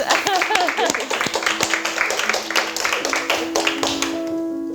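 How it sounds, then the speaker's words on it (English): A small training group gives a quick round of applause, a patter of claps heard alongside voices, with a steady tone humming underneath. "Let's give her a round of applause."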